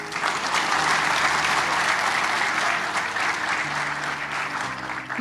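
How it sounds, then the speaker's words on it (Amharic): Audience clapping at a motivational talk, a dense sustained burst of applause from a crowd that holds steady for several seconds before tapering slightly. "አጨብጭቡ ለዚህ።"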